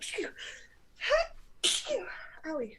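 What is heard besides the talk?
sneeze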